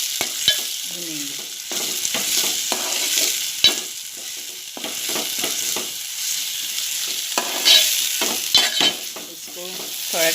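Onion sizzles and fries in hot oil for a Konkani eggplant and dal dish, with repeated scraping stirs of a spoon against the pan and steady crackle close by and no talk.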